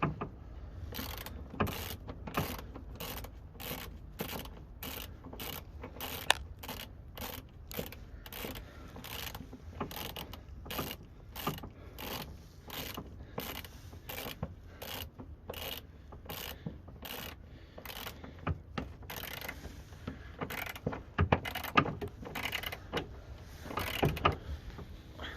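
Ratchet tightening bolts on a Fuji Racing rear lockout kit on a Subaru Impreza GC8, a long run of quick, regular clicking strokes, fairly quiet and close, with a few louder knocks near the end.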